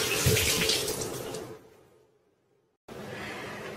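Water rushes from a kitchen faucet switched by a toe tap, a loud close splashing stream into the sink that fades and cuts off into silence, then starts again abruptly.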